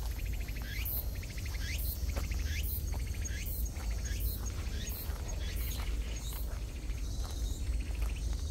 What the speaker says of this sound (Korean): 매미 소리 진동을 하네, 그냥.